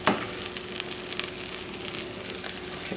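A sausage and cheese omelette sizzles steadily in a frying pan on the stove, a soft, continuous crackle with a brief louder burst at the start, and no talking.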